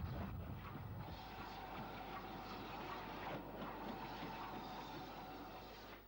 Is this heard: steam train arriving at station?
yes